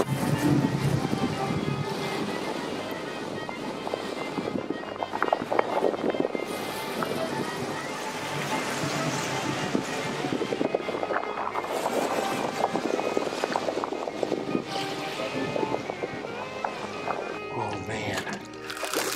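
A deep sea fishing boat rides out a storm in 19 mph wind and five to ten foot waves; steady wind buffets the microphone while waves wash and crash around the hull, with a voice talking over it.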